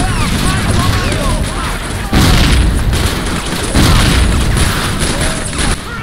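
A grenade explodes in the war game Faces of War: loud booming blasts stand out within a dense, constant roar of battle noise and gunfire, with a voice speaking through the din.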